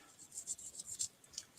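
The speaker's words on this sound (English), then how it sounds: "I just took the green part, you know, the part that should be green, colored that in" A pen or marker colours in a piece of a paper pop-up card with short, scratchy, close strokes in an uneven rhythm, faint and alone against quiet room tone.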